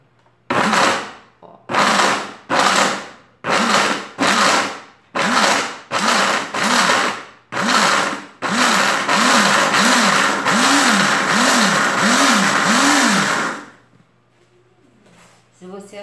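A blender mixing coconut powdered soap runs in a string of short, loud pulses, then whirs steadily for several seconds before cutting off, with no talk over it.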